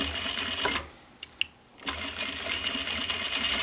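A sewing machine runs a seam on a recycled denim pouch: a steady, fast mechanical whir, a brief stop with a couple of small clicks, then a resumed run, heard close up and alone.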